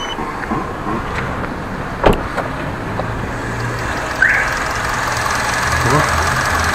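A car engine idling on petrol, a steady close rumble with a couple of brief clicks, as someone talks over it.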